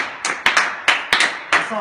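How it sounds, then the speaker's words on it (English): A short burst of applause from a few people at a Shinedown Carnival of Madness event, with sharp irregular claps arriving in uneven clusters, close and moderately loud. "Kent Sinkler, round of applause"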